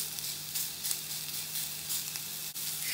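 A hamburger patty sizzles loudly in a hot pan just after being flipped, a dense, continuous crackling hiss heard up close with a faint clink partway through.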